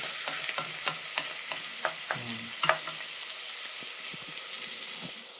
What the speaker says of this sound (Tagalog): Kailangan lang natin maluto rin yung onion tsaka yung garlic para lumabas yung amoy